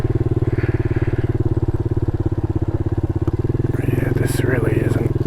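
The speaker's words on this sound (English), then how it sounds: "No, I don't think this bike would even attempt that one, Keela." A Honda Grom clone motorcycle idles and putters steadily on an off-road grassy trail, its small engine loud and close throughout, with a brief rise in revs near the end.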